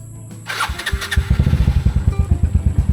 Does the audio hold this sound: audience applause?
no